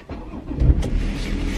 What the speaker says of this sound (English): I'm going to put the keys in. And what's that? Get the car warmed up.